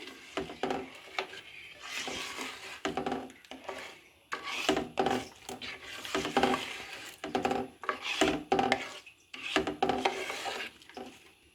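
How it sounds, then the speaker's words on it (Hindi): Tomato puree for homemade ketchup, with salt and red chili powder, is mixed by hand in rhythmic rubbing, scraping strokes that come in steady bursts, moderately quiet and without talk. "इन तमाम चीज़ों को हम अच्छे से मिक्स कर लेंगे।"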